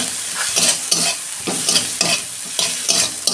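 Coriander powder goes into frying spices and gets stirred briskly, loud close scraping strokes in a steady rhythm of about two per second over a constant sizzle, with no voices.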